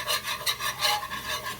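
A utensil scrapes browned bits off the bottom of a pan while chicken gravy is being made, a steady close rasping scrape with rhythmic strokes and no voices.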